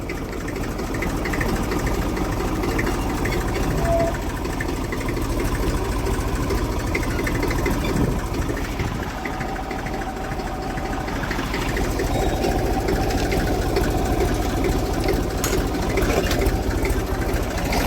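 A tractor engine idles continuously at close range, a steady, throbbing, low mechanical rumble with a dense vibrating texture that stays level throughout, with no voices.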